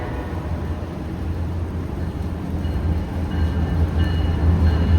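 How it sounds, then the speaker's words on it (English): Freight train M561, running from Selkirk, New York to Cincinnati, rumbles past on a rainy day, a steady low roar that builds gradually as the train draws nearer. "train number 2 today. This is M561, Selkirk, New York to Cincinnati."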